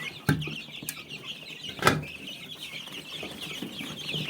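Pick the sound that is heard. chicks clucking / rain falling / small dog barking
chicks clucking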